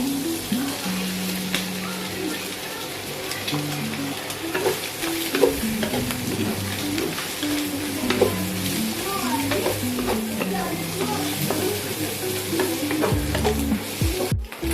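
Fried rice with sausage, egg and cabbage sizzling in a pan, a spatula scraping and stirring continuously over a steady frying hiss, close and fairly loud, with no voices.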